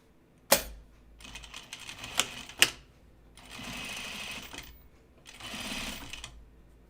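Three separate runs of a nearby sewing machine stitch a seam on a blazer. Sharp clicks and taps from handling the fabric come before them, with short quiet pauses between the runs.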